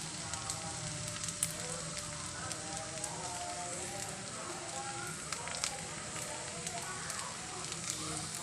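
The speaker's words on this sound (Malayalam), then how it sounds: "കുറച്ച് നെയ്യ് തുള്ളി കൊടുത്ത് ഇങ്ങനെ പരത്തി കൊടുക്കുന്നുണ്ട്" Ghee sizzles on a hot dosa pan under a wheat flour and banana snack, a steady, fairly quiet crackling hiss that runs throughout.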